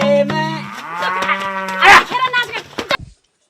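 A cow gives a long, loud, close moo lasting about three seconds, its pitch falling and rising, at a farm homestead. No one speaks.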